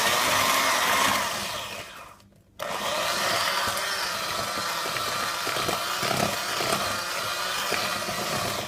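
An electric hand mixer whirs loudly and continuously as it beats eggs into batter, cutting out for a moment before starting up again with a dense, close, steady drone.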